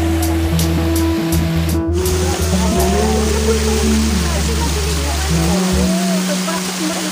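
Strong, rushing water pours continuously at a resort swimming pool, a dense loud wash filling the whole clip, with voices and shouts of swimmers mixed in underneath.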